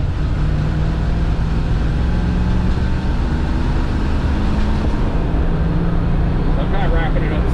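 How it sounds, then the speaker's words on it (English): The Rover V8 engine of a 1992 Land Rover Defender 110 station wagon drones steadily while driving in fourth gear. The low, continuous rumble of road and engine noise sits under a voice talking over it. "that Rover V8 and my fourth gear is smooth"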